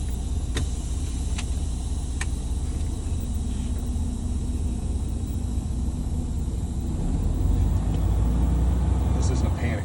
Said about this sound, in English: I'm going to pull forward about 5 miles an hour. I'm going to bring the vehicle to a stop.